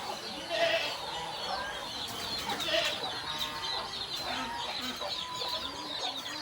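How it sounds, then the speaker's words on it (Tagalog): Chickens cluck and chicks peep steadily in a busy farmyard, with small peeping calls scattered over a constant background hum. "Ayan ito mga sisiw."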